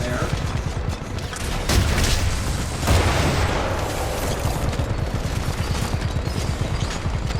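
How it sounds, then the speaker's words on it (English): Gunfire in a video game, dense rattling bursts and booming shots layered over a constant roar of battle, loud and close throughout, with heavier hits near two and three seconds. "Who is firing at me?"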